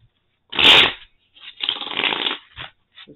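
A deck of tarot cards is shuffled close up in two quick riffling bursts, the second longer, followed by a few soft card taps in a quiet room.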